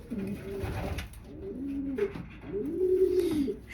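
Several pigeons cooing close by, low throaty rolling calls overlapping one after another with no talking.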